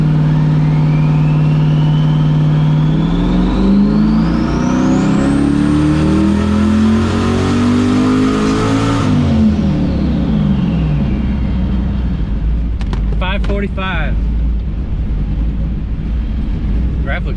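A turbocharged LS-swapped Lexus IS300 on flex fuel, boost set to 5 psi, revs loudly through a rising pull, then the engine note falls and settles to a rumbling idle with a few sharp clicks and whooshes near the end.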